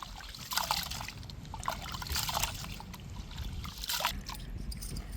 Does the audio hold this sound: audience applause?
no